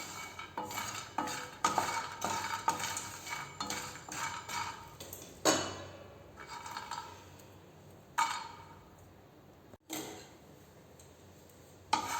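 Cinnamon bark dry roasting in a pan for homemade garam masala, a utensil stirring and scraping against the metal in repeated, uneven strokes with light clinks, fairly close and steady.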